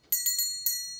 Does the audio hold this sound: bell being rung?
yes